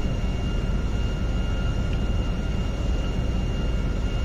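A plane flying in the video game GTA V, a steady broadband engine roar with a faint high whine, holding at even loudness throughout with no talking.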